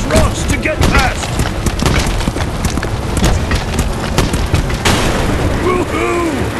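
A tank in a World War II mobile racing and shooting game fires at rocks blocking its path, producing repeated booming shots and bursting explosions over a dense, continuous game soundtrack. Voices speak in the game.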